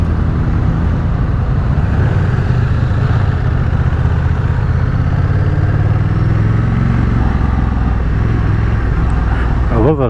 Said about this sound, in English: I love that exhaust. It really sounds good.